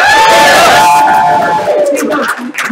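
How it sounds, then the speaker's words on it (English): Loud audience applause and cheering at a live game show, a dense wash of clapping and whoops that fades toward the end. "I want to hear a big round of applause"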